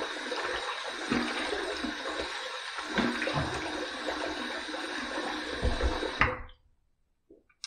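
Water runs steadily from a tap while a razor is rinsed after a shave with gravel shave soap, a close continuous splashing rush with a few knocks that cuts off abruptly near the end, leaving silence.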